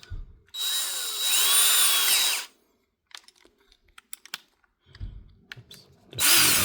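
DeWalt 20V MAX cordless drill spinning in a loud whirring burst, then clicks and rattles as the chuck is handled to change the bit, then the motor revving up again at the end.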